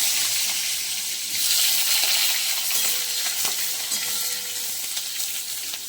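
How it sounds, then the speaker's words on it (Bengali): Eggplant frying in a pan makes a continuous bright sizzling hiss, with occasional soft ticks and pops coming through the steady crackle. "এবার আমি বেগুনটা ভেজে নেব।"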